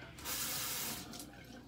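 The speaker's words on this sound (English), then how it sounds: "I turn on the hot water" Hot water gushes from a tap onto a cloth at a sink in a brief, steady hissing rush, fairly quiet and close, with no speech.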